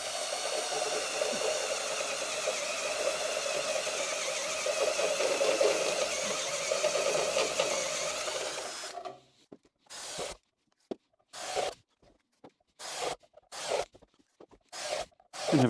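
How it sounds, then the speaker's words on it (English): A drill bores holes into a metal casting flask for bronze casting, first in one continuous high-pitched whine lasting about nine seconds, then in a series of short, separate bursts with silent gaps between them. "so I guess I better start drilling"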